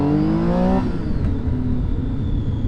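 A 2012 Triumph 675 Street Triple R motorcycle's engine revs high and loud, then drops off into a lower steady rumble, heard close with no talking.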